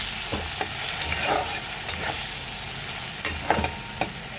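Taro stolons frying in a pan with salt, turmeric, cumin and coriander powder, being stirred: steady sizzling hiss with occasional scraping strokes of the spoon, close and fairly loud, no talking.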